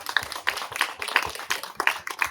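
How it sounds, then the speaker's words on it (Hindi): Audience clapping at a public gathering in Uttarakhand, a dense run of overlapping hand claps held steady at a moderate level for a couple of seconds with no talk. "आपके लिए तालियां बजाइए।"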